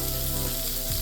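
Garlic sizzling hard in a pan beside a ribeye steak, a loud, continuous crackling fry heard up close and alone.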